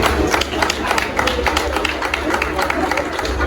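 Applause from an awards-ceremony audience in Cameroon, a dense steady patter of many hands clapping throughout with crowd noise underneath.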